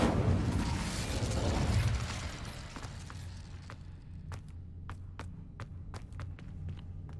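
An Incendio fire spell cast in the wizarding game Hogwarts Legacy bursts out as a loud, roaring whoosh that fades over a couple of seconds, followed by scattered sharp crackles and clicks.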